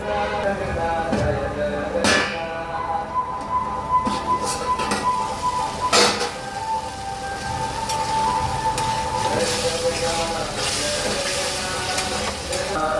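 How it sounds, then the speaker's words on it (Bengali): Masala and potatoes frying in a covered kadai, a steady sizzle with faint clinks and scraping running through the whole stretch, moderately close. "ঢাকা দিয়ে এটা কষাবো"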